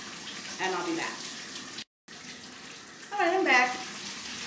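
A shower runs with a steady, close hiss of falling water, briefly cut off by a moment of silence before resuming, with a voice murmuring faintly under the spray.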